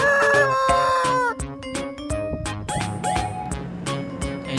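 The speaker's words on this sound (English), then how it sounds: "hen and cock, group of hens, big size hens and small size hens" Cartoon hens and a rooster give a lively series of clucks and crowing calls in quick, uneven succession over an animated soundtrack, fairly loud and close.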